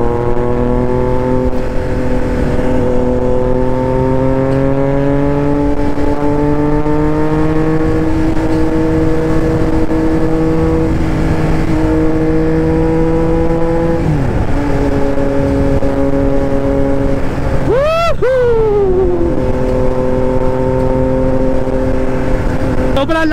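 A Triumph Trident 660 motorcycle engine revs up through the gears with rising whine, short gear-change dips and a sharp rev spike near the end, loud and close throughout.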